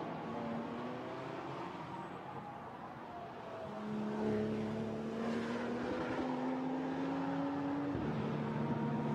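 A GT4 race car in qualifying at the Spa circuit roars past: the engine note climbs steadily, then drops sharply at a gear shift near the end, with no voices.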